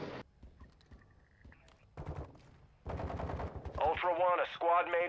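Gunfire in the video game Call of Duty, sharp bursts of shots that grow denser and louder toward the end, with a radio-style voice and a player talking over parts of it.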